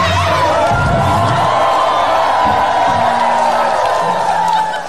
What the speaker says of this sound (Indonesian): Terima kasih untuk tepuk tangannya.